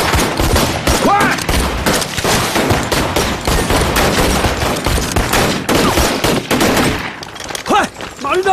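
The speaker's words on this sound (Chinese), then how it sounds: "军营为什么有枪声？" Gunfire rips through a wartime action film scene set at a military camp, dense rapid bursts and volleys that stay loud and continuous for most of the stretch before briefly thinning near the end.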